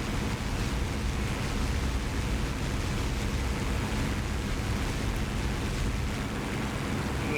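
A Spitfire Mk IX piston engine in the DCS flight sim drones steadily, heard from the cockpit on a landing approach. The constant broadband roar is mixed with rushing wind and holds an even level with no talking.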